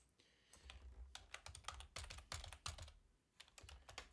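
Quiet, close typing on a computer keyboard while installing a virtual machine, quick clusters of key clicks with short pauses between bursts.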